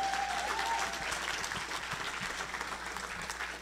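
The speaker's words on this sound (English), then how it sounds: "so give her a big round of applause for that." An audience at a community talk event applauds steadily and fairly softly throughout, a dense, even patter of many hands with a brief thin whistle-like tone near the start.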